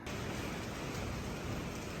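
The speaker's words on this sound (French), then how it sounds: "Il grêle, les grêlons font à peu près 1 à 2 cm" Hail of about 1 to 2 cm stones falling outdoors, a dense, steady hiss of many impacts with no voices.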